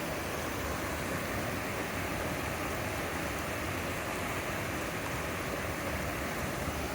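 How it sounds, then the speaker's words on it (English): A storm-swollen creek rushes steadily and loudly nearby, a dense, unbroken roar of water that holds level throughout with no voices over it. "the creek is definitely rushing"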